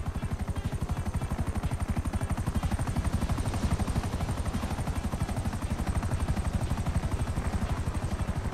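A helicopter hovers overhead in the video game GTA 5, its rotor producing a loud, steady, rapid chopping thump that continues throughout without pause.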